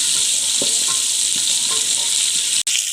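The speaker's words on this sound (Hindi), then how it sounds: "सबसे पहले हम लहसुन का तड़का लगाएंगे इसको।" Garlic sizzles in hot oil with fenugreek seeds and curry leaves for a tempering, a steady close frying hiss with a few soft stirring scrapes.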